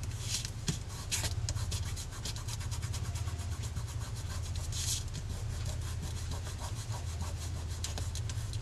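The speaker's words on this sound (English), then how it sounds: "So I'm just going to rub this in now with my fingertips." Fingertips rub an art medium into an index card: steady close-up scraping and rubbing strokes, continuous and fairly loud, with no voices.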